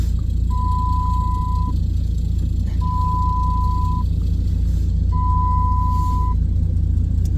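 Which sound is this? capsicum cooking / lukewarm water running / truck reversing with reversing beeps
truck reversing with reversing beeps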